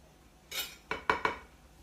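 Meatloaf served onto plates with utensils: a soft scrape followed by three sharp clinks of metal on dishware, close and clear, with no talking.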